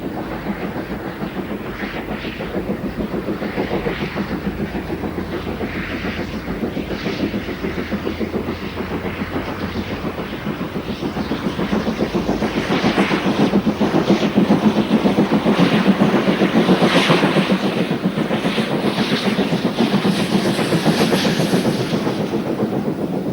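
A Great Western Railway express steam locomotive hauls a British Rail intercity special from Didcot to Stratford-upon-Avon, a steady rumbling roar with rail clatter that swells louder past the midpoint, with wind buffeting and no voices.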